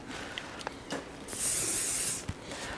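A single sustained burst of hairspray during dog grooming of a Westie, about a second, a bright close hiss preceded by a few small clicks and rustles.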